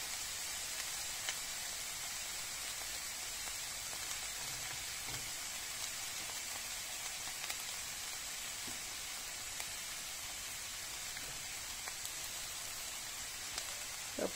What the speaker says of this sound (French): Je vais laisser frire un peu